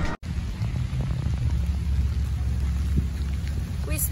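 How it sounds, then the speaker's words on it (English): Heavy hurricane rain pours down near Disney in a loud, steady, dense roar that holds for about four seconds after a brief dropout at the start, with no voices. "now the real rain has hit"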